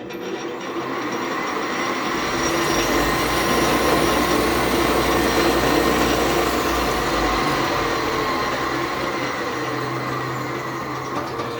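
An old machine tool running flat out at 1300 RPM, a loud continuous mechanical roar with rattling and a droning hum, steady for over ten seconds, no speech.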